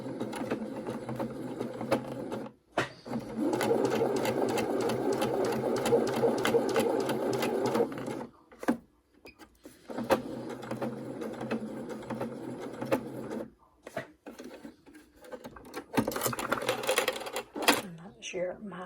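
Sewing machine top-stitching a small seam to close a homemade fabric face mask, a steady close mechanical whirring in long runs with brief pauses between passes, with a voice talking faintly underneath.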